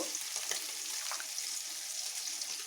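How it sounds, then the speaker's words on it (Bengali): Water spinach and mung dal frying in a pan as a splash of water is added, giving a steady, close, crackling sizzle that hisses evenly throughout with no pause. "আমার এগুলো প্রায় ভাজা হয়ে এসেছে একটু জল দিয়ে নেব"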